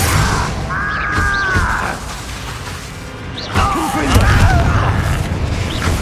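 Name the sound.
spell explosions from the video game Hogwarts Legacy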